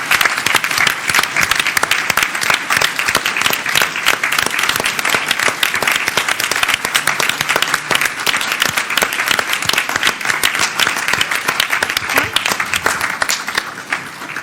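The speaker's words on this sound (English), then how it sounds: "can we have a round of applause for our new student representatives?" Sustained audience applause greets newly installed student representatives at a Philadelphia board meeting, loud and steady with dense clapping throughout and no pauses.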